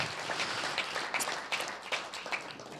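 Applause from a conference audience at a functional medicine forum, a faint, brief patter of clapping heard from a distance.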